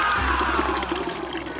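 Spring water for drinking runs and splashes steadily close by, a continuous gurgling flow with no voices over it.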